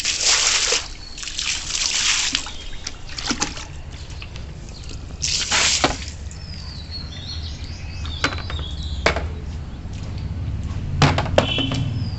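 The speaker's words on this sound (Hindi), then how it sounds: "यहाँ बाहर पानी डाल के थोड़ा हाथ मुँह धोना" Water is poured and splashed outdoors for washing hands and face, heard as intermittent trickles and sloshing bursts over a steady background hum, with faint bird chirps.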